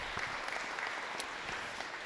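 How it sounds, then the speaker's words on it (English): People at a Bay City, Michigan city meeting give a brief round of applause, steady and moderately loud from start to finish. "Give a round of applause."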